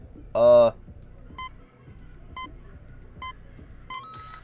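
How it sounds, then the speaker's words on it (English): Short electronic keypad beeps in a Roblox game as a code is entered, four evenly spaced tones after a brief voice burst, closing with a higher confirmation tone. "Use keypad to input code 3487."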